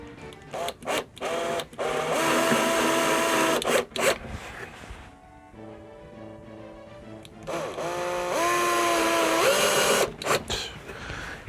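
A power drill works at a metal shelf, its whine rising and falling in several bursts with short pauses and a stretch of quieter running in between, close and fairly loud.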